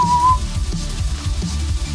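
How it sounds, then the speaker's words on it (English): A short high whistle comes through an online team voice chat during a GTA V Online race session, one brief steady tone near the start over low background noise and murmur. "Whistle in the damn team speak."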